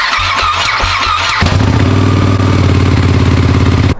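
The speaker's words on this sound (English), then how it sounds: "Cold start for the Ducati 959 Panigale." A Ducati 959 Panigale motorcycle cold-starts with a short cranking burst, then catches and settles into a loud, close, rumbling idle that holds steady for several seconds.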